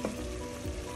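Pork and beef go into a pan with sauteed green peas for a Goan beef stew, bringing a brief, close, steady sizzle and frying hiss with a soft stir.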